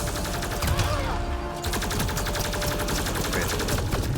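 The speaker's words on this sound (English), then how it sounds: "There's literally a robot shooting at you" Sustained rapid gunfire from a robot enemy in the Mass Effect Andromeda video game, a dense, steady stream of shots filling the whole stretch, loud and close with game music and effects beneath.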